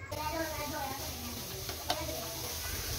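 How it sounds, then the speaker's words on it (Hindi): Onions and green chillies frying in oil in a pan, a quiet steady sizzle and crackle with a faint clink partway through. "ऑयल में प्याज को फ्राई करना है और साथ हरी मिर्चें काट के डाल दें"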